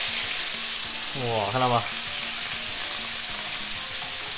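Pepper-seasoned prawns fry in oil in a wok, giving a constant loud sizzle and hiss while someone briefly speaks over it midway.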